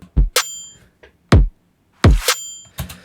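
A layered snare and bell hit repeated in a produced electronic beat, with sharp low-thumping snare strikes and bright ringing bell tones alternating in a short rhythmic pattern, loud and alone.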